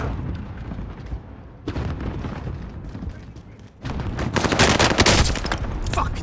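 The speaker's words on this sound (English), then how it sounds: "taking heavy fire" Heavy gunfire in the video game Call of Duty: Modern Warfare: dense, rapid shooting and booming impacts that thin out briefly before a louder, sustained barrage, with indistinct voices mixed in.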